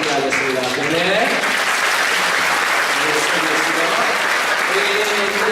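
A church congregation at a Presbyterian infant baptism service bursts into loud, sustained applause that fills the room, with a few voices audible beneath the clapping.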